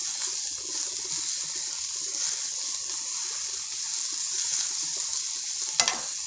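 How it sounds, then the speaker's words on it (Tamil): Carrots being sautéed in a pan give off a steady, moderate sizzle with soft stirring scrapes, and a couple of sharp clinks come near the end. "இந்த கேரட்டும் வேகக்கூடாது, சும்மா ஒரு 2 நிமிஷம் இதிலே வதக்கிட்டோம்னாக்கா போதும்"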